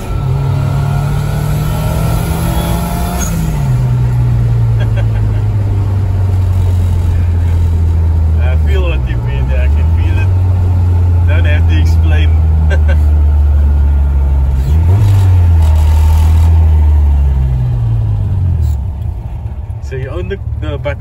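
A turbocharged Nissan 1400 Champ pickup engine rumbles loudly and rises in pitch in a few revving surges, steady throughout, with wind noise and occasional talk.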